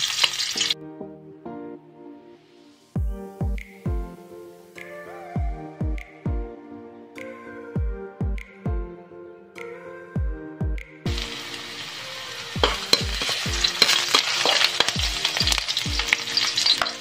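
Ginger pieces hit hot cooking oil in a pan for chicken feet tinola, giving a steady sizzle with a run of sharp clatters and scrapes, building to a louder, broader frying hiss toward the end.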